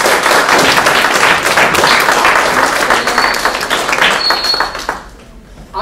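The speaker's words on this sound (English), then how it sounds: "Let's give them a little applause for that." An audience at an inspirational talk claps and applauds loudly and densely for about five seconds before the applause fades out, with a few scattered voices underneath.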